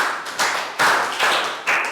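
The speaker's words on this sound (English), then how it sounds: "3 claps." A Year 3 class claps together in a classroom: several sharp, crisp group claps spaced evenly about half a second apart, close and loud with no talking.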